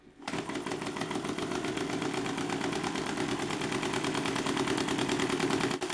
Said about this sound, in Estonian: Nüüd, kui mootor töötab 588 pöördega minutis